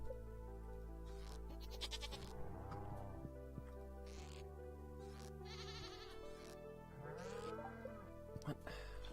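Cows moo repeatedly on a farm in the video game Stardew Valley while being milked, several drawn-out calls rising over steady background game music with small interface sounds.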